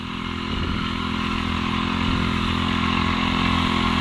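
A Bullstrike machine engine runs at a steady, loud drone with a buzzing motor tone, holding constant close by with no talk.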